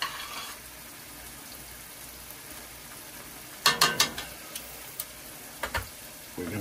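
Broccoli cooks in a pan beside pasta, with a faint, quiet sizzle under a cluster of sharp clinks and scrapes of utensils against the pan partway through.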